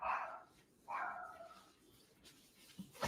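Indoors, a dog gives two loud, close barks about a second apart, followed by quieter rustling and a soft knock.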